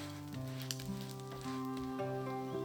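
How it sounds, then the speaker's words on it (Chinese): Steady oil sizzling from scallion pancake frying in a pan, a constant crackling hiss with a faint hum underneath, no voices. "我们要把葱花煎到淡淡的焦黄色，这样葱香味才浓"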